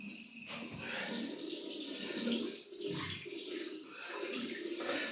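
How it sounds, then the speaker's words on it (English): Hot water runs from a bathroom tap into a sink to warm a vintage 1908 Gillette Model 102 safety razor, a steady close rushing splash that continues throughout with slight surges, and no one talking. "Just want to get the hot water on to heat the razor up"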